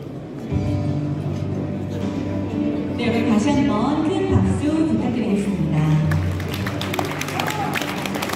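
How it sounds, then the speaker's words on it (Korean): Audience applause at a ceremony and year-end evening marking the publication of a high school's 100-year history, a steady broad wash of clapping from a crowd lasting throughout, fairly loud, with murmuring voices mixed in. "네, 여러분 다시 한번 큰 박수 부탁드리겠습니다."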